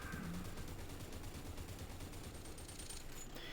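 Rapid automatic gunfire from a two-handed weapon in the Population One VR game, a continuous fast volley of shots at steady pace, fairly faint and unbroken for the whole stretch.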